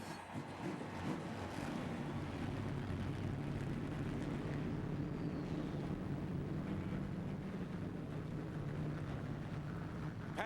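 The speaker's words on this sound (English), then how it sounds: "Gentlemen, start your engine!" NASCAR Craftsman Truck Series race trucks fire up at Bristol Motor Speedway for the 2008 O'Reilly 200, merging into a steady, loud roar with a windy, washed-out edge.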